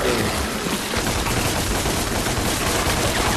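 Sustained, dense gunfire from the player's gun in the Devil May Cry demo roars continuously and loudly, a harsh wall of rapid shots with no talking over it.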